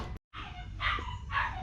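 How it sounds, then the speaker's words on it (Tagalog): A neighbouring household's dog barks from next door, two clear barks after a short silence, fairly close and moderately loud over a steady background. "yung aso sa kabilang bahay"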